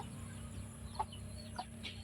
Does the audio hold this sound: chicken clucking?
yes